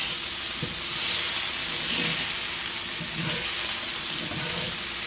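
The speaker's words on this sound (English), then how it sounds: "But I'm gonna stir these potatoes again because it's been a few minutes again." Potatoes fry in an oily pan, a steady sizzle with scraping stirs of a utensil against the pan every second or so, close and moderately loud without any talk.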